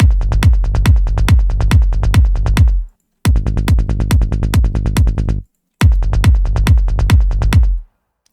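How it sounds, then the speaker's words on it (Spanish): A mixed kick drum and bass layered in FL Studio pound out a steady, punchy pattern of repeated low hits in three loud phrases, each broken by a short gap of silence. "vamos a comparar el antes y el después de la mezcla de el kick y el bajo"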